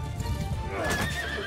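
A warhorse in Mount & Blade II: Bannerlord whinnies loudly, a shrill wavering neigh rising over low battlefield rumble and hoofbeats, close and prominent during a mounted charge.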